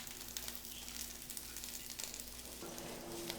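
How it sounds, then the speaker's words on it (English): A steady, close sizzle of Brussels sprouts frying in a hot pan, an even crackling hiss with faint stirring and no talking. "You wanna hear that sizzle though once they hit the pan."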